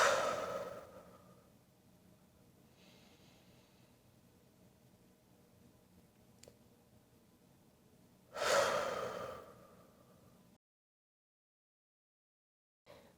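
Slow breathing during a gentle bedtime yoga flow, with a soft breath at the start and a louder, airy exhale around the middle, over faint room noise before the clip falls silent.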